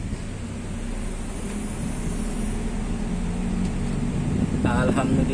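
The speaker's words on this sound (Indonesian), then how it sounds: "Okay, kita tekan aircon." Air conditioner running in a Proton Exora, a steady low hum and airflow rush throughout with a few faint clicks near the end; someone speaks briefly over it.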